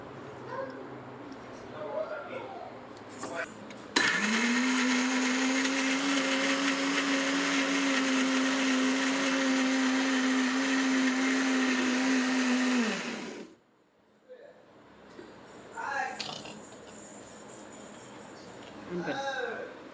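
A mixer grinder whirs loudly and steadily for about nine seconds, grinding a garlic chutney with sesame oil, then stops abruptly; a person talks before and after the motor runs.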